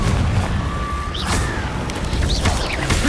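Confringo explosion spell in Hogwarts Legacy, a dense rumbling boom with crackling debris and brief whooshing spell tones under a continuous loud wash of game sound.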